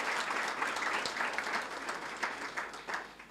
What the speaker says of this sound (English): you need to give yourself a good round of applause